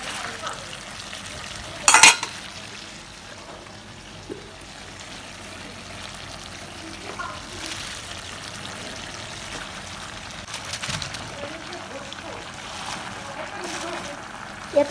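Malabar spinach goes into sautéed sweet pumpkin in a pan and gets stirred, soft frying and stirring with a sharp clatter near the start and scattered scrapes, quiet throughout.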